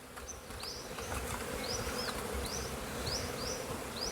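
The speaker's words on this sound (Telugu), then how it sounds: "ఇప్పుడు ఈగలు పోతాయి" Wild bees swarm around a hive during a honey harvest in the hills outdoors, giving a dense, steady buzzing hum close by. Faint high chirps, probably birdsong, recur in the background and no one speaks.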